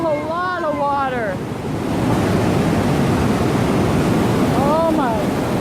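Box Canyon Falls thunders as a huge volume of water plunges into a narrow rocky crevice, making a constant loud, broadband roar. A few brief high voice-like calls or exclamations rise faintly above the roar.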